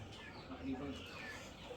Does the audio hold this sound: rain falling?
no